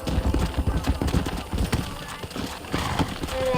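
Horse hooves galloping in the western video game Red Dead Redemption, a rapid rhythmic clip-clop of hoofbeats throughout, loud and close, with a brief whinny and game sounds mixed in.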